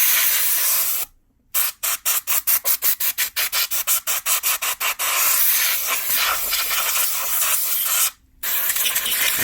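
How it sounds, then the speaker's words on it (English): A can of compressed air duster blasts a dusty, noisy PS4 console in loud hissing bursts: one long spray, then a fast run of about twenty short rhythmic puffs, a long spray, and a final short burst. "Have a look, air dust remover, compressed air or something."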